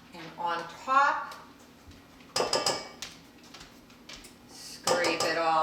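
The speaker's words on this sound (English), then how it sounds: "use a little spatula to get it all out and on top" A small spatula scrapes 8 ounces of sour cream out of its container, with a few short clinking, scraping bursts between quieter stretches, close up and fairly loud, while a person talks.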